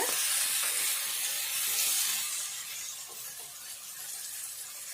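Ingredients sizzling in a pan for an aloo curry, a loud bright hiss and crackle that holds steady, then softens slightly partway through.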